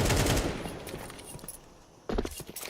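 Submachine gun fire in a Counter-Strike match, a dense burst of rapid shots opening loud, tapering off, then another sharp burst near the end.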